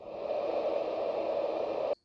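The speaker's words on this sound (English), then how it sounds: "You have bright white noise," A steady hiss of bright white noise from a small budget white noise machine plays evenly for about two seconds, then cuts off abruptly.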